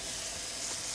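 Steak sizzles in a hot pan, a dense continuous hiss and crackle at close range, steady for the whole second with no talking.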